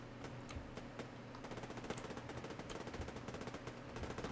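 Gunfight in the shooter Survarium, with rapid automatic fire rattling in steady fast bursts and a few separate single shots, fairly distant and quiet, alone without talk.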